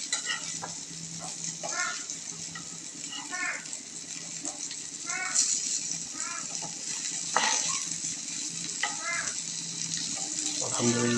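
Brinjal slices fry in oil in a pan with a steady sizzle, while scraping spatula strokes turn them at irregular intervals and a voice speaks throughout.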